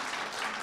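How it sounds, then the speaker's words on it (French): An audience at a seniors' conference on healthy eating applauds a geriatrician, a short, even wash of many hands clapping, moderately distant and alone. "On peut l'applaudir pour le remercier de sa présence"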